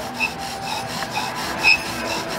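A wooden spindle is spun fast against a fireboard for a friction fire at an outdoor festival, giving a steady, continuous dry rubbing rasp with faint rhythmic pulses from the back-and-forth strokes.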